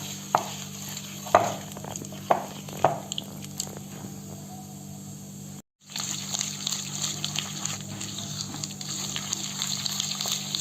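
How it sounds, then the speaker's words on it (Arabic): Butter and sugar (125 g and 75 g) mixed by hand in a bowl, heard as close, soft squishing and scraping stirs with a few sharper knocks early on, then a steadier mixing texture after a brief gap. "نخلطوا المقادير مع بعضها مليح"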